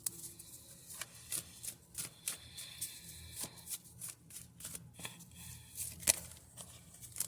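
A deck of tarot cards is shuffled by hand in a quiet room, with soft, rhythmic riffling and slapping bursts repeating close up.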